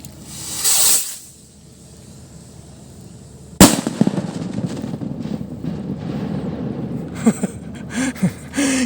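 A sharp hiss of a lit fuse is followed by one loud firecracker blast, a Zamboanga-made paputok, then scattered crackling and pops outdoors with breezy wind noise.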